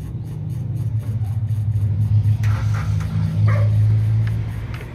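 A Kia Picanto with a damaged ECU starts on its own once the battery is connected. Its engine runs in a steady, close, low idle rumble, with a few faint clinks and taps over it.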